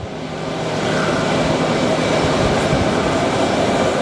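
American Airlines A321-200 airliner at Phoenix Sky Harbor airport, its engines a steady, loud broadband roar that swells in the first second and then holds constant, with no voices.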